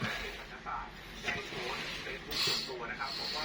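A steady broad hiss of a gas stove burner runs throughout, close by, with faint clatter and movement on top of it.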